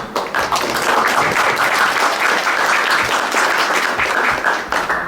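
Seminar audience in Wrocław applauding the guests, a loud, continuous burst of crowd clapping that holds steady for several seconds with no talk over it.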